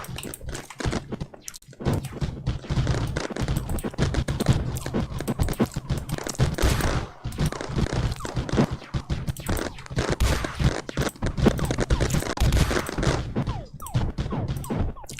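Fuse turrets in the game Mindustry firing during a multiplayer match, a dense run of sharp percussive blasts and crackling shots repeating throughout amid continuous busy game noise.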